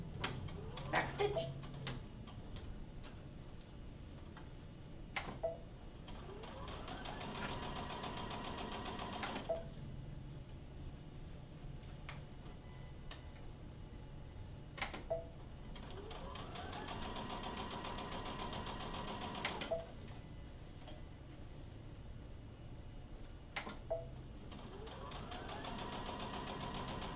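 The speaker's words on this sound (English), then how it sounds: "Here we go. Back stitch." A domestic sewing machine runs a back stitch on a fabric bag, whirring at a steady hum with repeated ticking needle strokes, pausing briefly every few seconds before starting again, fairly close and moderately quiet.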